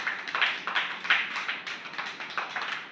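Small child clapping hands at an Anganwadi preschool, a quick uneven series of light, faint claps with no talking.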